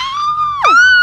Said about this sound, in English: Sorry, the screaming right now.